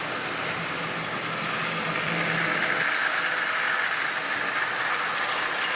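A Lionel 8200 model locomotive with an AC motor runs steadily, giving a continuous whirring, buzzing motor drone at close range that carries on without a break.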